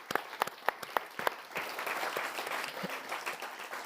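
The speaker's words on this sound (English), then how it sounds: "Maybe give them another round of applause for them." An audience at a summit applauds, starting with a few scattered sharp claps and swelling into steady, dense applause from the room, fairly close and without talk.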